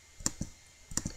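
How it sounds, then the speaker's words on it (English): Two pairs of quick, light computer mouse clicks, close and crisp in a quiet room, each pair a click and release a fraction of a second apart. "So I'm going to click on it."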